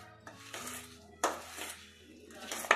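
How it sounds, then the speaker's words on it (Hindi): A utensil mashes semolina barfi mixture flavoured with cardamom in a metal pan, giving a few separate clinks and scraping knocks against the metal, fairly close and quiet. "अब हम इसको अच्छे से मैश कर लेंगे।"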